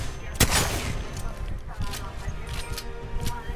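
A Mastiff shotgun fires in the Apex Legends video game with one loud, booming blast followed by scattered distant gunfire and clattering game effects, while a voice talks over it.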